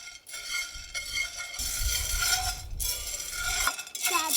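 Coffee beans stirred while roasting in a pan, a dry rattling, rustling churn in uneven bursts with short pauses, close and moderately loud.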